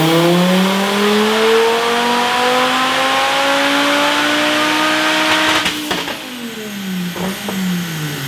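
A turbocharged 2.5-liter MK3 car engine pulling hard on a dyno, a loud sustained rev climbing steadily in pitch, then briefly letting off and coming back onto the throttle near the end.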